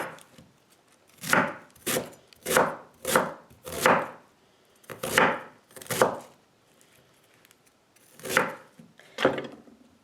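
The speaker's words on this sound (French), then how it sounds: "on va la tailler en lamelles." A knife cuts red Treviso chicory into strips on a board, about ten separate crisp chopping strokes in irregular pairs and singles, with quiet pauses between them.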